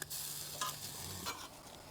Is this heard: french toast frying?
yes